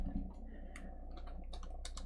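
Keys clatter on a computer keyboard while an Amiga racing game, Top Gear 2, is played, giving quiet irregular clicks and taps over a steady low hum, spread across about two seconds with no talking.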